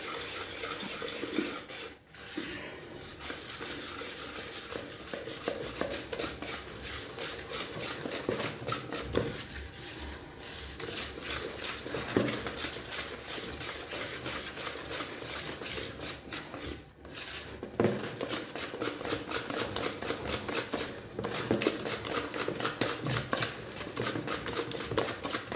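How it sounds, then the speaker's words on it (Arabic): A whisk mixes dry bread-dough ingredients and yeast in a bowl, making a continuous quiet scraping and rattling with rapid rhythmic strokes, faint and close. "هكذا نخلطوا غير بالفوي"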